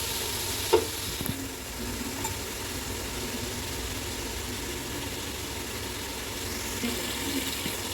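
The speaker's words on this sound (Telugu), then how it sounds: "ఇప్పుడు ఆయిల్ అంతా పైకి వచ్చేంత వరకు అది ఫ్రై చేసుకోవాలి." Mint and coriander paste frying in oil for donne biryani gives a steady, even sizzle throughout, with a faint clink or two near the start.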